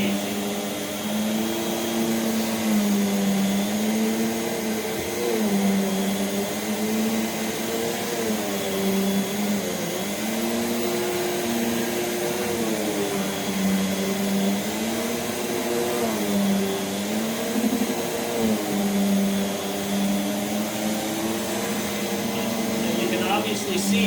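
A 1989 refurbished Rainbow D4C canister vacuum runs with its power nozzle gliding over medium pile carpet, a loud steady whine whose pitch wavers gently as the nozzle is pushed back and forth, with occasional talk faintly beneath it.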